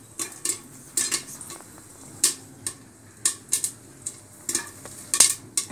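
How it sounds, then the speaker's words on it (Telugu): Popcorn kernels pop inside a pressure cooker over a high flame, giving sharp, irregular cracks about every half second, some in quick pairs, above a quiet background sizzle. "స్టార్ట్ అయినాయండి, పాప్కార్న్ స్టార్ట్ అయినాయి"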